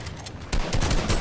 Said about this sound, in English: Stop shooting at my house.